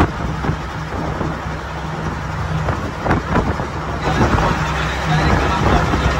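A bus runs from Mandapam toward Rameswaram, its engine rumbling steadily from inside the cabin over road noise, with passenger chatter under it.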